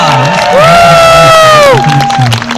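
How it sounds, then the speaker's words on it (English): A large crowd cheers and shouts with loud whoops, children's voices among them, under applause at an outdoor family gathering in Honolulu, Hawaii; the sustained, close roar rises and falls for a few seconds. "How's about another great big round of applause for Cousin Waihuka?"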